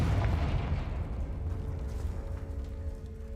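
A Confringo blasting spell in a video game goes off as a heavy, rumbling explosion, a loud low boom that slowly fades into a lingering hum.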